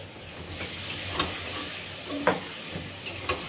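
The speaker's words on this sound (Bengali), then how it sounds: "দিয়ে দিলাম সর্ষেটা, এবার দিয়ে দিচ্ছি আমি পটলটা" Pointed gourd tipped into hot mustard oil with mustard seeds, giving a steady close sizzle with a few sharp crackles and clinks of a spoon against the pan.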